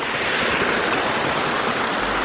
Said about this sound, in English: we've arrived at the waterfall. It is called Gozalandia Falls